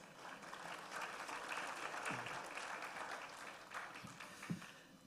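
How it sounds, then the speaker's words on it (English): A crowd claps steadily for several seconds at a Grade 11 graduation ceremony, a dense, even patter of applause from many hands. "Parents, give yourself a round of applause."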